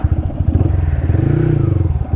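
A Mahindra Bolero 1.7 pickup engine runs loud and close with a steady, throbbing diesel pulse as the truck pulls away, with no talking.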